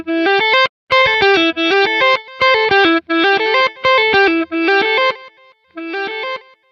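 Electric guitar through a Quad Cortex reverse delay playing a fast phrase of short distorted chords and notes in rhythmic bursts with gaps, close and loud.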